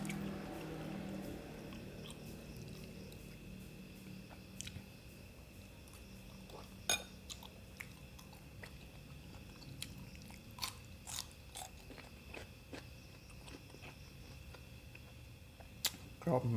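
Close, crisp crunching and chewing on grilled pork neck salad with cold, crunchy fresh vegetables, with sharp bites scattered over a quiet background and an occasional faint clink of utensils.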